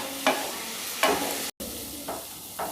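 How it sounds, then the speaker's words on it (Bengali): Spice paste being stirred with a little water for a fried fish dish, a few distinct scraping strokes spaced about a second apart, close and clear, with no talk. "এবার এর মধ্যে সামান্য পরিমাণ জল দিয়ে আমি মশলাগুলো ভালো করে মিক্স করে নিচ্ছি।"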